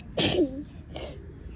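A single sneeze, sharp and close, followed by a softer second burst, indoors while a child plays at decorating a pretend cake.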